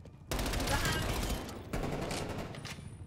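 Rapid bursts of gunfire from a Call of Duty Cold War multiplayer match on the Moscow map, an XM4 rifle firing in dense, close volleys that pause briefly and resume, with voices faintly in the mix.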